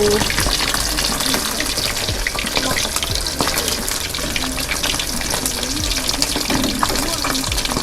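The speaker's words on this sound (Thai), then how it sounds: "ทอดปลาทู" Mackerel frying in a pan, a loud dense crackle and sizzle of hot oil filling the whole stretch without pause, with a few faint clinks close by.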